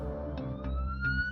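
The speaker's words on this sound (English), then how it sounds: "As the ever-present sound of sirens cut through the night" Siren wailing through a night scene in the video game Choices: Do No Harm, a rising electronic tone over a steady low drone and soft thumps, moderately loud and continuous with no talking.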